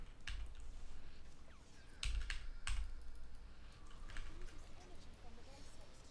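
Computer keyboard typing in a gaming stream setup, with a few sharp bursts of keystrokes over a low background hum, fairly close.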